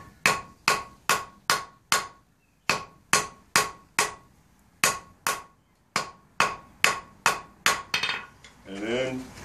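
A blacksmith hammers iron on an anvil to draw a taper: sharp ringing blows in quick bursts of four to six, with short pauses between groups, close and clear, ending in a softer scraping sound.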